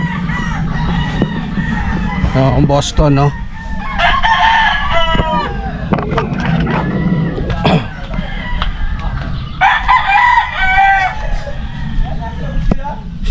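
Chickens and roosters on a farm crow and cluck repeatedly nearby, with long crows rising over steady clucking while someone talks throughout.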